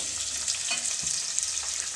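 Continuous hissing and sputtering of drumsticks frying in tempering oil, close and even, with faint stirring bumps.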